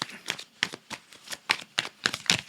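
A deck of tarot cards is shuffled by hand in a steady run of crisp riffling bursts, close and moderately loud, with no voices.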